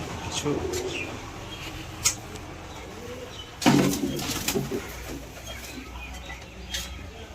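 Madrasi pigeons cooing at close range, soft throaty coos with occasional sharp clicks and a burst of wing flapping midway, under people talking.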